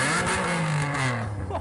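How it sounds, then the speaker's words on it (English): An Alfa Romeo 146 GTA engine revs close by at a car meet, a throaty rising and falling note held for a moment amid faint crowd noise. "give it a"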